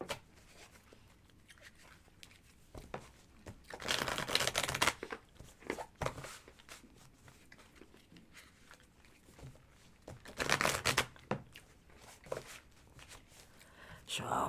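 A deck of tarot cards is shuffled during a live reading, giving two brief, crisp riffling bursts with quiet handling noise in between and soft room sound around them.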